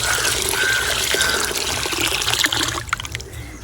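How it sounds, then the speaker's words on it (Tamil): Water is poured over rice as it is washed, a steady close gush and trickle of liquid that ends in a few splashes and drips. "மூன்று தண்ணி கழுவுங்க."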